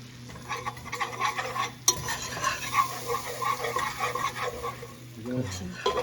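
A whisk working flour into melted butter for a roux in a pot, making quick close scraping and tapping strokes over a soft sizzle, with a sharp metal clink partway through and brief kitchen clatter near the end.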